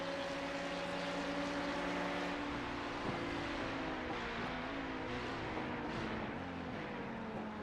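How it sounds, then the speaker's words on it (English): Race car engine at the 24 Hours of Road America endurance race, a loud steady engine drone with shifting revs as it works down through gears on track, continuous and close throughout. "Just downshifting there."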